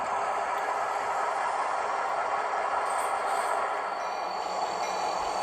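Freight train cars rumble and rattle steadily as a locomotive couples onto a waiting freight train in a rail yard, a continuous broadband roar at close range with no voices.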